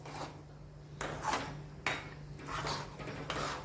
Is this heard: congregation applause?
no